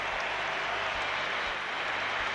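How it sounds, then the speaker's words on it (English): Crowd noise at a rugby match between the Barbarians and Leicester, with a broad, steady roar of cheering and clapping from a big stadium crowd and no single voice standing out. "Here's a big cheer as Jason Leonard"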